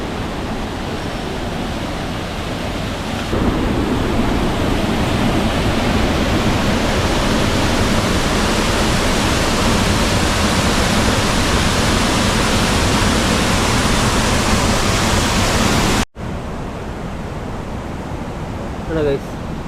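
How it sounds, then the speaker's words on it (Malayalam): Small waterfall at Chilanthiyar, a hill village amid orange orchards: a constant broad roar of rushing water, loud and close, dropping suddenly to a quieter rush near the end. "ഇതും ഇവിടെ ചെറിയ ഒരു വെള്ളച്ചാട്ടം പോലത്തെ സ്ഥലം"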